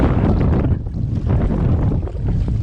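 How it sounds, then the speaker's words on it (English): Strong wind buffeting a microphone on a lake during a kayak trip in a Sea Eagle Razorlite inflatable, a loud continuous roar with rushing gusts and no talking. "Now the real run of the wind."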